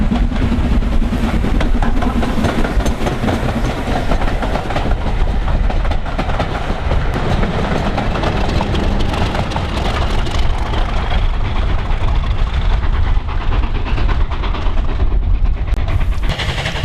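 A heritage Santa special train hauled by a Class 37 diesel locomotive rolls past loud and close, a continuous rumble of engine and wheels with rhythmic clickety-clack over the rail joints.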